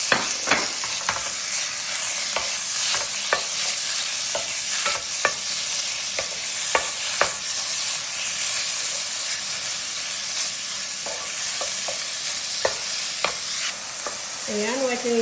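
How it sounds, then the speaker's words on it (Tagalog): Sliced chicken breast frying in a pan, a loud continuous sizzle and hiss with frequent sharp ticks and scrapes of stirring, close up, and a brief higher squeal near the end, no voices. "Itong pan at ilalagay ko na itong hiniwa kong chicken breast."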